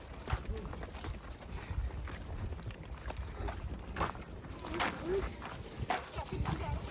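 Desi cows walking along a rough village road beside a roadside temple during a pilgrims' foot procession, their hooves giving a steady, uneven clopping close by under constant outdoor noise and voices.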